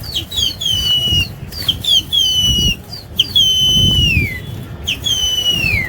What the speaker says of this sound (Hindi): लोगों ने फेंकने चालू करे कबूतर